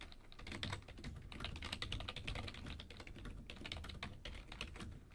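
Typing on a Razer membrane keyboard produces a dense, fast run of soft, muffled keystrokes, steady and close throughout, with no voices.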